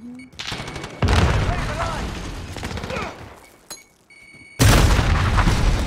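Grenade explosions in Call of Duty Modern Warfare: several loud booming bursts, one at about one second and a heavier one near the end, amid gunfire and game noise.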